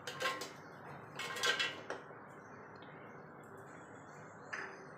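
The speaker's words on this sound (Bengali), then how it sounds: "এবার জারের মধ্যে এগুলো ঢেলে দেব" Dates, banana and milk tipped into a mixer jar for a banana milkshake, heard as a few quiet clinks and knocks of utensils against the jar over a soft room hush, with one last light tap.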